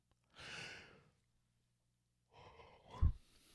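A single person yawns: a long breathy exhale, a silent pause, then a second rising breath ending in a short low snort-like release, close and quiet.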